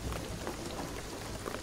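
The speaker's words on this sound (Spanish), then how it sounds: "la lluvia va a inundarlo todo" Steady rain falls in the video game Shadow of the Tomb Raider, a dense continuous hiss of drops spread evenly across the whole stretch, with no voices over it.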